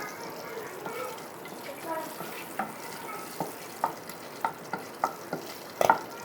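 Bengali five-spice masala crackles in hot oil, a soft frying hiss broken by a run of sharp, separate pops that grow denser toward the end.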